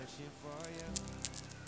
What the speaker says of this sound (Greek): αυτό το τέλειο το μπρελόκ.